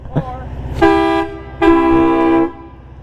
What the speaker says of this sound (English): Got the stock horn.